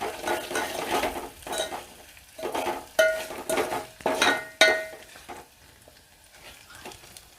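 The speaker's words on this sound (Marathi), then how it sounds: "तर मिक्स करूया" A spoon stirs a dahi kadhi mixture of curd, turmeric and salt in a metal pot, with repeated scraping strokes and sharp clinks against the rim, close and uneven in rhythm.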